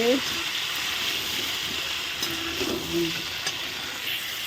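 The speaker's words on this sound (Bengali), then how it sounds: "ফুলকপি দেখো ভাজা হয়ে গেছে এই যে নরম হয়ে গেছে" Cauliflower frying in a pan makes a steady, moderate sizzle with light stirring noises throughout, and a voice speaks faintly in the background.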